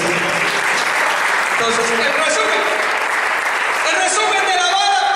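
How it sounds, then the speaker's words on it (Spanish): A church congregation at a Pentecostal-style service claps in a dense, continuous wash, with a preacher's voice speaking over the applause. "¿Cuánto le damos un aplauso a Jesucristo?"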